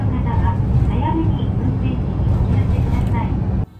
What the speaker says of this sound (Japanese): 停留所じゃなくても降りれるっていうタイプの珍しいバスですね